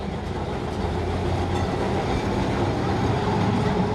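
A Kolkata tram rolls along its rails with a steady, loud, close rumble and rattle of wheels and carriage, unbroken for several seconds and with no voices over it.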